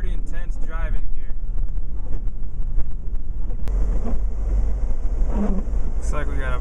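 Car driving up an interstate at about 35 mph through a winter storm whiteout, with steady road and engine rumble mixed with wind buffeting the microphone, continuous and close throughout, while someone talks.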